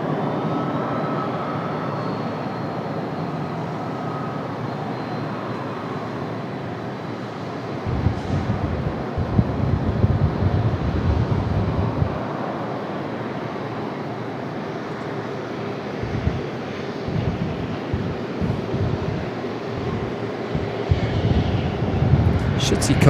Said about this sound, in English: Here comes our next arrival, like a Delta CRJ.